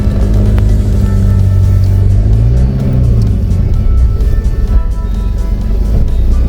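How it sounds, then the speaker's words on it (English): A car passes close on a road beside a canal, a loud engine rumble that swells and shifts in pitch midway, then settles back into steady road noise. "Watch out, car coming."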